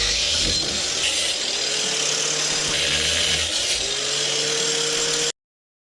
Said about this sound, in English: I'm going to be cutting it with this angle grinder I've been using throughout the video.